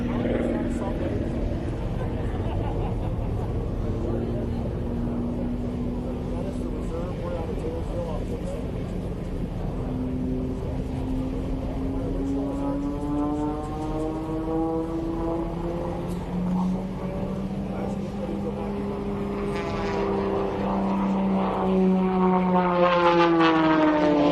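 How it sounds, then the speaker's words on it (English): A display aircraft flying a knife-edge pass at the Warriors Over the Wasatch military air show in Utah: a loud, steady engine drone with sweeping, shifting pitch that swells louder as it nears the end. "With a knife edge pass, laying the aircraft on the fuselage, one wing up, one wing down, spoiling the lift of those wings"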